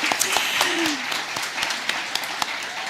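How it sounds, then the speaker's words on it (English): Crowd at a Minneapolis ward candidate forum claps for itself, a dense, even wash of applause with a few sharper individual claps standing out and a brief murmur of voices underneath. "You can clap for yourselves,"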